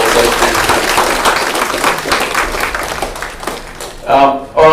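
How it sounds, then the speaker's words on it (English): People at a community meeting applaud the local RFS volunteer firefighters with a loud burst of clapping that gradually thins out, and voices come in near the end. "big round of applause"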